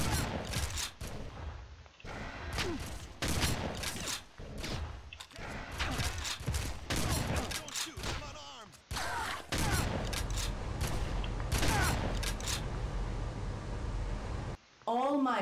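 Rapid weapon gunfire in the video game Red Faction comes in dense bursts of sharp shots and impacts, loud and close, broken by brief gaps; a voice talks faintly at times.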